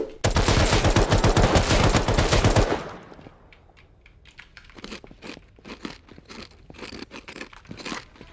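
Rapid automatic gunfire in the survival video game Rust rattles loudly for about three seconds, then sparser, quieter single shots and clicks follow at irregular intervals.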